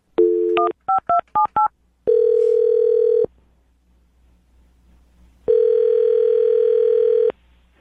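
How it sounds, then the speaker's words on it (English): Loud, clean telephone dialing: a short dial tone, then several quick DTMF keypad beeps, followed by two long ringback tones separated by a quiet pause. "I'm going to dial this phone number right now."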